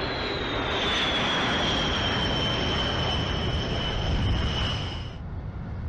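A B-1 Lancer bomber's jet engines roar steadily with a high whine on top, loud and close, then the whine drops away toward the end, with no voices.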